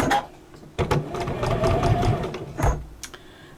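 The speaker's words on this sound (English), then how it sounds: "we're going to stitch that 1/4 inch seam allowance right the way down" A sewing machine runs in steady bursts, stitching a quarter-inch seam down a fabric pot holder or mat, with a brief pause partway and a mechanical whir close and fairly loud.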